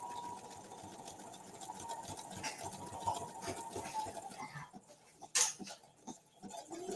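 A sewing machine stitching fabric, steady whirring and rapid needle chatter running for several seconds, then slowing with a few sharp clunks near the end, fairly quiet and with no talk.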